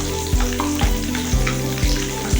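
Chicken pieces for a zinger burger frying in hot oil in a small pan, giving a steady loud sizzle with about four sharp bursts of spitting as pieces go in.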